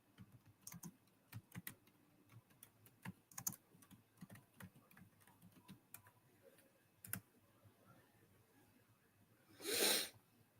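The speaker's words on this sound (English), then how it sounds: "I'm going to type it in the chat." Soft keystrokes tap on a computer keyboard in quick irregular bursts, faint and close, followed near the end by a brief louder noise.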